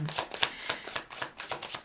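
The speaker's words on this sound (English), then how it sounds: "the reason why I'm shuffling funny is because it's really stiff" A stiff, sticky tarot deck is shuffled by hand in a quiet room, giving a quick series of soft, papery riffling bursts with an uneven rhythm.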